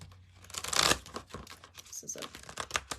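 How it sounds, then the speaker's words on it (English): A deck of tarot-style cards is shuffled close by, a crisp riffling burst followed by lighter papery flicks and taps. "One more shuffle."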